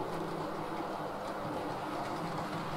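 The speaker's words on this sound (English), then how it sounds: "the first through train is this York to King's Cross" A model railway empty stock train, York to King's Cross, hauled by a K3 locomotive runs on a Little Bytham layout, with a steady close rolling rumble and faint wheel clatter throughout and no voices.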